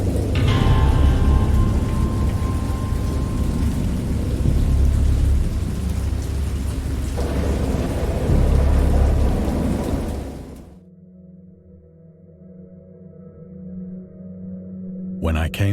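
Thunderstorm in the video game Dagon: dense, loud rain with deep rumbling thunder roars steadily for about ten seconds, then cuts to a low droning ambience that swells again at the end.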